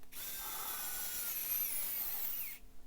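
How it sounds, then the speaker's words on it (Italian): A mini precision electric screwdriver with LED drives in a screw, giving a steady high-pitched motorized whine that runs continuously for about two and a half seconds and then stops, close up with no talking. "Vediamo se anche ad avvitare riesce oppure se mi richiede di avvitarlo manualmente."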